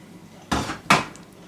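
A pan set down for cooking, two sharp metallic knocks about a third of a second apart, close and clear against a quiet kitchen.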